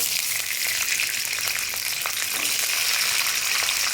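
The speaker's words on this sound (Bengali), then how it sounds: "দিয়ে আমি আর বাকি সবজিগুলোও সব ভেজে নেবো।" Broad beans fry in hot oil in a wok, giving a steady, loud, close sizzle with faint crackles throughout and no talking.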